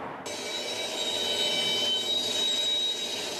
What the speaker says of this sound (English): The sounds of the screeching train